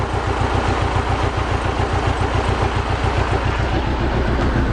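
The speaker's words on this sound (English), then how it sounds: "And the engine is shaking a bit." A Mercedes 190E's M102 four-cylinder engine idles steadily on worn engine mounts, its even low pulsing continuous and close, with no voices over it.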